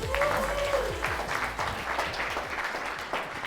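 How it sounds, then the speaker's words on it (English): A room of attendees at a real estate event gives a round of applause for two presenters, continuous mid-level clapping filling the space, with a faint tone and some low thumps beneath. "Give another round of applause."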